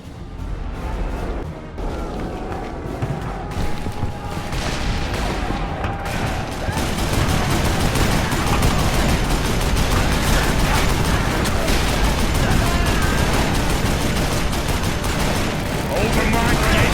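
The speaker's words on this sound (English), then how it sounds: "Ray, take the other Gatling gun!" Continuous rapid gunfire from a Gatling gun in the western shooter game Call of Juarez: Bound in Blood, a dense roaring barrage under loud battle noise, with voices shouting over it.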